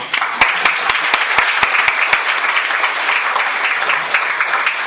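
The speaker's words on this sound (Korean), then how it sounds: "그냥 중간 박수 한번 주시죠" An audience claps for a panel of announcers at a Korean event, a dense, even roll of applause with a run of sharp, close claps early on, steady throughout.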